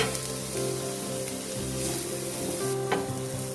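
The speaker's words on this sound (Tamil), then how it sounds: "மசாலாலாம் வந்து நல்லா ராஸ்மெல் போகிற வரைக்கும் வதக்கிக்கோங்க" Masala for Madurai-style kothu idli sautés in a pan, giving a close, steady sizzle with continuous stirring and occasional clinks of the spoon.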